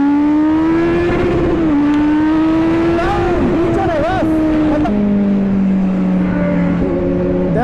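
A Kawasaki Z900 motorcycle engine revs loud and close with a steady droning pitch that climbs, wavers and then drops with a gear downshift, continuous throughout.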